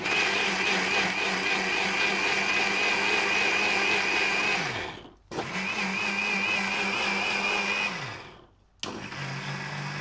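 Mixer grinder blending grated coconut with a cooled milk mixture into a creamy paste, a loud whirring whine in two long bursts, each winding down before a brief silence, then starting again.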